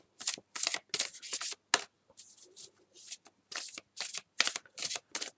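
Oracle cards from a Nature's Whispers deck shuffled by hand in a series of crisp, rapid riffling bursts separated by short pauses, close and alone.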